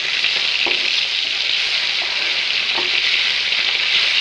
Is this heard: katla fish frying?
yes